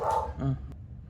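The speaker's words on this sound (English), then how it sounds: "It's so difficult to record anything because of these dogs." Dogs barking indoors nearby, a couple of short loud barks in quick succession that fade into a brief lower whine.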